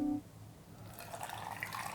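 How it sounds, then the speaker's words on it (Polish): Boiling water is poured from a glass into a jar, a soft splashing trickle with faint drips that starts after a short pause and continues steadily at close range. "wezmę szklankę i będę szklanką nalewał"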